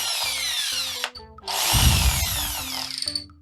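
A corded electric drill with a variable-speed trigger whines near the mic, with its pitch rising and falling as the trigger is eased and squeezed. One brief pause splits two runs.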